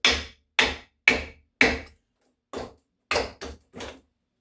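A hammer knocks on a wood block set against an axe wedge eight times, four evenly spaced sharp blows, a pause, then four quicker, softer hits, close by with no talking, while hanging a vintage Plumb 4.5 Dayton axe head.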